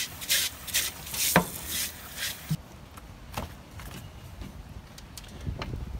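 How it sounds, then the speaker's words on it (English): Scrubbing the belly of a slaughtered Florida green iguana gives uneven rough rubbing and scraping strokes, louder bursts at first, then softer scratches and occasional taps, close and with no voices. "Give his belly a nice scrub."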